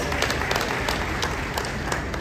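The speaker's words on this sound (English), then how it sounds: "I think he deserves a round of applause for that." Audience applause at a gathering honoring Oba Oniru, a steady broadband wash of clapping sustained at even loudness throughout, with no voices standing out.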